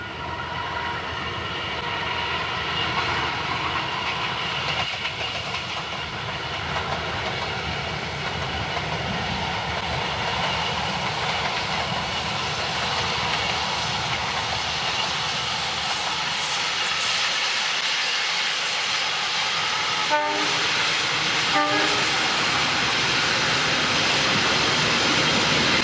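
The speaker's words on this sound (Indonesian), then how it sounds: "merekam kereta api yang lewat di daerah Karangsari" A train rolling past the rice fields of Karangsari, heard as a broad, steady rumble and hiss that holds at an even loudness throughout, with a few faint tonal squeals near the end and no voices.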